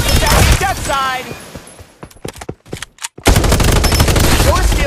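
Rapid automatic gunfire and bursts of shots from the Farlight 84 battle royale video game, loud and dense, with a brief lull of scattered single shots before heavy firing resumes.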